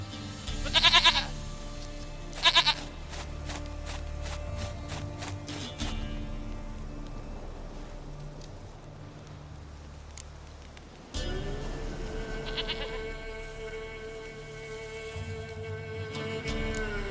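Goat bleats in The Witcher 3, two loud nasal calls near the start over a low game ambience with steady tonal background music that continues afterward.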